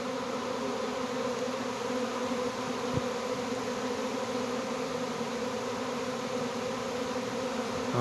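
A honey bee swarm buzzes around hives in a dense, steady drone that stays loud and close throughout, with no talking and only one brief tap partway through.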